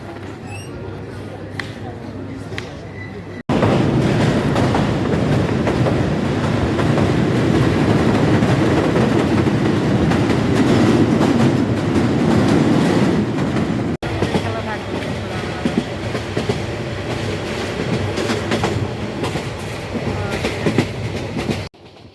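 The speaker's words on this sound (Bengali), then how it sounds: "আমাদের ট্রেন কিন্তু এইমাত্র রেল স্টেশন ছেড়ে দিয়েছে" Mohanagar Godhuli Express train running on the Chittagong–Dhaka line just after leaving a station, a loud steady rumble of wheels and carriages with clickety-clack, continuous and close, with a brief break partway through.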